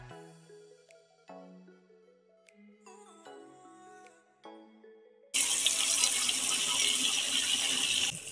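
Tap water gushes loudly and steadily into a sink for soaking sofa covers, starting abruptly after several seconds of tonal music and continuing to the end.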